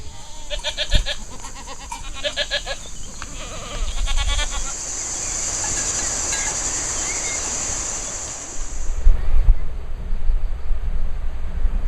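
Several goats bleat in short wavering calls early on at a saffron farm in the Sisteron area, then a steady high whine and low rumbling noise take over with occasional thumps.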